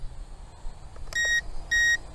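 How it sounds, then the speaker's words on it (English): An ATTOP W10 toy camera drone gives two short high electronic beeps about half a second apart, clear and close over quiet background noise. "It beeps like it's gonna flip, but it doesn't."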